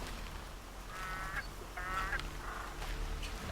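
Geese honk in Horizon Zero Dawn, with several short nasal calls in quick bursts standing out over a steady game ambience and background hum.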